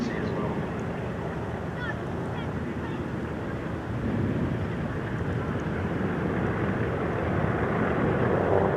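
A Lockheed 12A Electra flies past at the Sywell Airshow, its engine drone a steady broadband roar that grows slightly louder toward the end.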